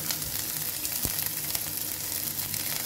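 Steady sizzling hiss of vegetables frying in a hot pan for vegetable Maggi, with chopped cabbage going in and a single soft thud partway through, close and continuous.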